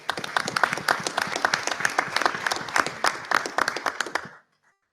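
An audience at a school board of education meeting claps in a sustained round of applause for retiring school employees, steady dense clapping for about four seconds before it stops abruptly.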